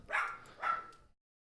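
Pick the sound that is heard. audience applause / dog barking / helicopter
dog barking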